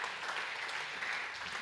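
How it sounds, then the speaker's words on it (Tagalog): Sustained, dense clapping from a church congregation during a Sunday afternoon prayer service, loud and even across the whole short stretch with no pauses. "Pwede ba nating palakpakan pa si Lord ng isa pang malakas sa palakpak?"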